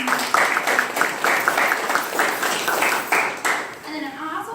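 Audience applause for professors at a ceremony: a steady wash of many hands clapping, fairly close and full, continuing for several seconds and tapering slightly at the end.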